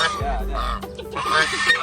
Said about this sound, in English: these are the birds. So you feed them with the seafood. Geese.